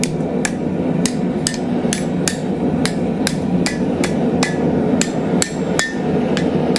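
Blacksmithing at an anvil: a hammer strikes iron in a steady series of sharp, ringing blows, about two per second, loud and close over a low background hum.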